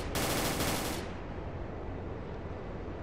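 Rapid automatic gunfire in S.T.A.L.K.E.R. Clear Sky, a dense loud burst lasting about a second before dropping into a sustained rumbling noise.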